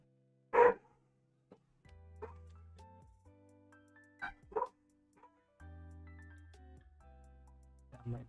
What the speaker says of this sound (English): My dog is barking non-stop.